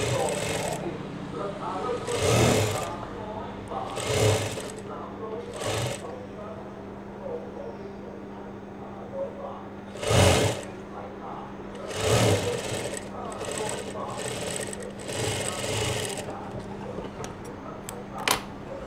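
A sewing machine stitches Thai sabai fabric in repeated short bursts of rapid clatter, close and loud, separated by pauses where someone talks softly and a steady hum runs underneath.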